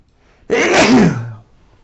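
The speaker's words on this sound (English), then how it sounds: "I'm gonna sneeze" A single loud, sharp sneeze bursts out close to the microphone, trailing off after about a second, with quiet before and after.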